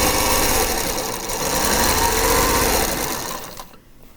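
A sewing machine runs steadily, stitching the final border onto a scrappy pieced quilt, with a close, continuous mechanical hum and rapid needle rhythm that winds down and stops near the end.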